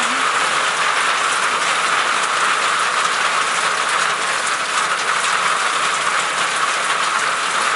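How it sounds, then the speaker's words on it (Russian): An electric suburban train passes close by outdoors in the rain, a loud steady roar and hiss that holds evenly for nearly eight seconds with no voices. "А потом идет электричка"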